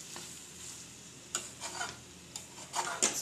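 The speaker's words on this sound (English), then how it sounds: "Give it one last stir." Potato poppy seed curry, Bengali-style aloo posto, gets a final stir in a pan, giving a few soft, scattered spoon scrapes and light sizzles over a quiet background.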